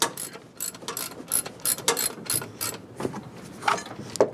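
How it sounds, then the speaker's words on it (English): A hand ratchet undoes nuts and bolts on a 1975 Cadillac Fleetwood during a restoration, giving a close, steady series of sharp clicking strokes in quick rhythmic bursts. "All it really needs is like a ratchet. And just undo a few nuts and bolts."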